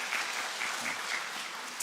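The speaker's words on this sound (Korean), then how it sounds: "박수 한번 쳐주세요" An audience at a summer evening church revival service claps steadily and warmly throughout, a full room of hands applauding close and alone.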